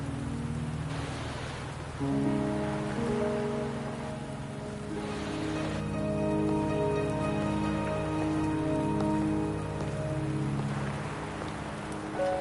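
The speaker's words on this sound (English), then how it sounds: "Are you trapped here by the rain?" Steady rain falls in the video game Wuthering Waves, a soft, even hiss that lasts the whole stretch beneath sustained, tonal game music.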